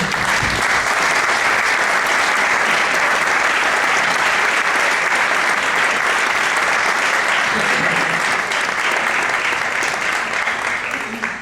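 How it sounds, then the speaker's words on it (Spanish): Steady, dense applause from the audience at a bullfighting conference honouring a Catalan matador, a loud, unbroken wash of clapping that holds for the whole stretch. "Luis Barceló, pido un aplauso para él, por favor."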